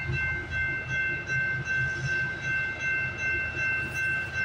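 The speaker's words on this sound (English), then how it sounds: "This train, look at him, he's going like a snail's pace." CPKC 231 freight train with a BNSF unit rolling slowly past at Guelph Line in Campbellville, a steady rumble with rhythmic wheel-on-rail pulses and a sustained tonal hum overhead, close and continuous.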